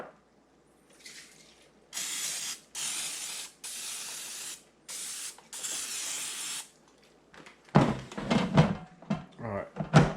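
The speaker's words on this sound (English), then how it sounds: "I'm gonna put just a little bit of spray over that" Several bursts of cooking spray hiss in a row over okra in an air fryer, each lasting about a second, followed by clattering and a few brief bumps near the end.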